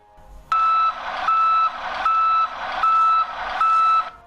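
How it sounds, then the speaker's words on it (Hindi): Mahindra Blazo X BS6 truck instrument cluster sounding a DPF regeneration warning, five evenly spaced electronic beeps, loud and clear over a low cab hum. "इसके साथ साथ बीप की आवाज भी सुनाई देती है।"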